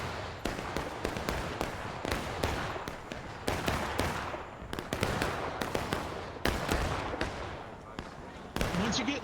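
Repeated musket volleys crack out in War of Rights, a Civil War battle game, sharp broadband reports firing in quick irregular succession, some overlapping, loud and close throughout, with a voice calling out between shots.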